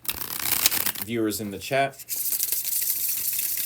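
Tarot cards are bridge shuffled, a crisp riffling flutter at the start and again after a pause, with a person talking in between and lighter card handling afterward.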